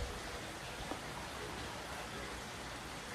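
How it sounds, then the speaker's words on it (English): Heavy rain pours down steadily outdoors, a dense, continuous hiss with no breaks and no voices over it. "it's pouring down rain"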